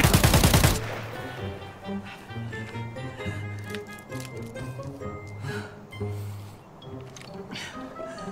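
Sniper rifle shots in the shooter game Arena Breakout, a Mosin bolt-action rifle among the weapons, with a loud burst of gunfire at the start, then game sounds and music under someone talking.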